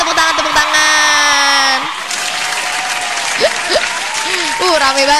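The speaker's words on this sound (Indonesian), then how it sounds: "Tepuk tangan." Applause sound effect played on a radio show, a steady burst of clapping and cheering that fills the first couple of seconds, then continues more faintly under a presenter's talk.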